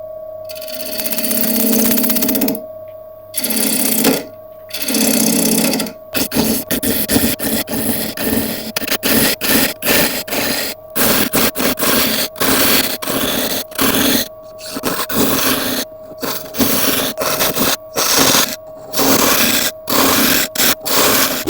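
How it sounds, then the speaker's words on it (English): Carbide tools hollow a grass tree wood box on a lathe in a loud, continuous rasping scrape, broken into stop-start bursts with brief silent pauses between cuts. "We're going to get out the carbides now and start hollowing this out."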